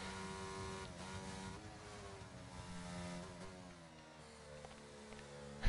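Formula 1 race cars, including a McLaren, on track at Japan, with a steady high engine whine heard faintly and at a distance for several seconds.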